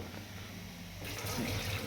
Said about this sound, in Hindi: जैसे भात पकाया उसके बाद इसको नल के नीचे लगा दिया।